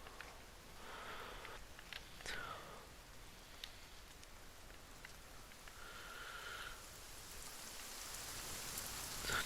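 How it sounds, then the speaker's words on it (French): Steady rain falls in the forest survival video game The Forest, a soft even hiss of drops with a few brief brighter ticks and rustles on top, continuous and moderately quiet with no voices. "Toujours plus de pluie"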